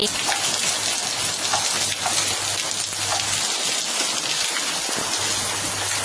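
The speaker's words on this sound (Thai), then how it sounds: "ฝนตกเห็นไหม" Steady rain patters down outdoors after thunder, a dense continuous hiss of drops on surfaces that stays loud and even throughout, with no voices.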